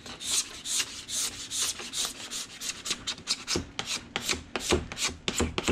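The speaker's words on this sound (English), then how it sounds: "So this nice smooth sharp scraper gets the wax off" Sharp plastic scraper dragged along a waxed ski base, a series of loud, close, rasping strokes in a quick repeated rhythm with no talk.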